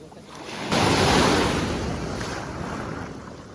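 A sea wave surges in and washes close by on the shore, a broad rushing swell that slowly fades into steady sea noise with wind buffeting the microphone.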